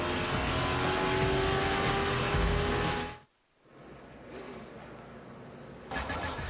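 ARCA stock cars race at Kentucky Speedway, a loud sustained engine roar that cuts out suddenly, then returns as a fainter, distant drone before swelling again at the end.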